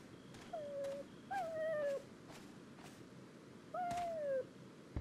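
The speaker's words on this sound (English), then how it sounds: "The whimpering dog." A dog whimpers in the horror video game Resident Evil 4. Three drawn-out, falling whines sound at a moderate distance over a quiet, hissy ambience, with no one talking.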